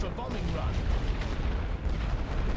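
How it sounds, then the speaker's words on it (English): Continuous low, rumbling battlefield explosions and artillery booms from the World War I strategy game The Great War: Western Front, dense and heavy throughout with no distinct pauses. "Thought I ordered a bombing run."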